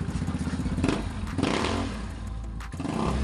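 A Yamaha Mio Sporty scooter fitted with an aftermarket pipe fires up after a kick start, with rapid chugging pulses, a thump and a couple of loud revs close by.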